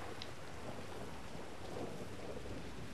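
In a GTA 5 street scene, rain hisses steadily as a dense, even wash with a low rumble of thunder underneath, and no voices.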